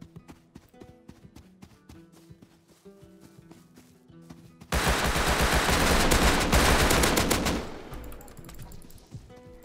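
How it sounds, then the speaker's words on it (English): Sharp, rhythmic shots tick steadily in the game Rust, then a loud, dense burst of continuous gunfire roars for several seconds before cutting off. "Gunfire."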